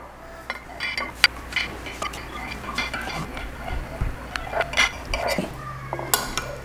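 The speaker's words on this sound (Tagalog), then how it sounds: "At ngayon, hihiwain na natin itong ating jelly." A knife cutting set cathedral window jelly in a mold, heard as close, scattered clinks and taps of utensil on dish with a soft scrape, while someone speaks over it.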